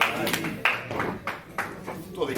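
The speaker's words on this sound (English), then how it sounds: "Well, they clapped less that time." A crowd of fans claps briefly after a heavyweight champion is announced, with a loud voice speaking over the short, scattered applause.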